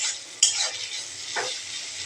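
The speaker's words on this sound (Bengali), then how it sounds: "এগুলা দিয়ে আমি হালকা নাড়াচাড়া করার পরে" Food frying in oil is lightly stirred, a sharp scrape of the utensil followed by softer strokes over a continuous gentle sizzle, close by.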